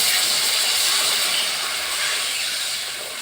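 Water poured into a hot pan of fried spiced eggplant hisses loudly and steadily, a close broadband steam rush that eases slightly toward the end.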